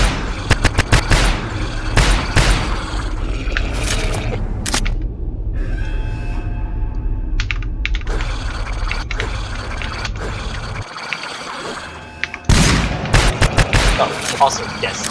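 Shotgun fire in a game built as a GTFO-style shooter, heard as sharp repeated blasts in bursts at the start and end, with dense game noise and a person talking through much of it.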